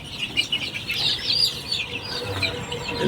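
Fayoumi chickens in a flock of about 300 birds on a poultry farm in Sirajganj, clucking and squawking continuously at close range with a busy, overlapping chatter.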